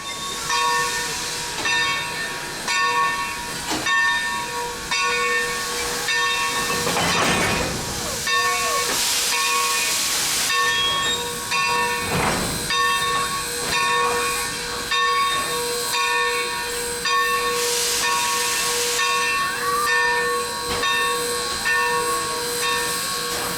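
Texas State Railroad steam locomotive 400 hissing loudly as it couples to passenger cars, with constant steam hiss, a sustained whistle-like tone, and bursts of louder venting steam and metallic clanks, no one talking.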